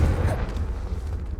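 A Confringo fire-blast spell goes off in the Hogwarts Legacy video game: a loud, deep boom that rumbles on through a short burst.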